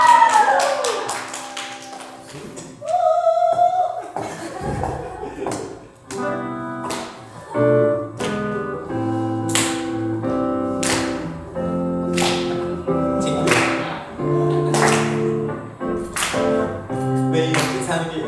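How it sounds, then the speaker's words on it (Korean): A church congregation claps a steady beat along to a song, with sharp rhythmic claps over music and a singing voice throughout the passage. "여러분 박수 쳐주시면 제가 한번 랩까지 해가지고 한번 불러보겠습니다."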